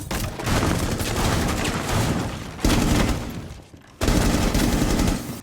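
Rapid spraying gunfire from Rainbow Six Siege, loud continuous automatic bursts broken by short pauses into three long strings.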